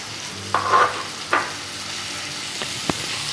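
Sliced tomato goes into frying masala for a Gujarati vegetable dish, and a spoon scrapes and stirs through the sizzle in a few distinct strokes over a steady low frying hiss.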